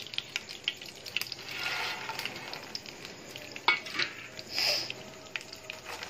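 Phool makhana (lotus seeds) tumble into hot ghee in a pan, giving a soft sizzle and crackle with light scraping and stirring clatter, a few louder rustling bursts rising over quiet frying.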